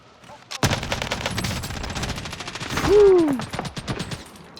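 Rapid bursts of automatic gunfire in the online shooter Call of Duty: Warzone, loud and close, with a sharp whooshing sweep near the end amid the shots.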